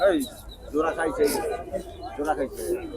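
Pigeons in a cage at the Hemayetpur livestock market coo softly in the background while someone talks steadily over them, his voice dominating throughout.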